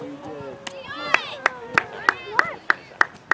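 Hands clap in a steady rhythm, about eight sharp claps, on the sideline of an under-12 soccer game at a Labor Day tournament, with children and adults talking throughout.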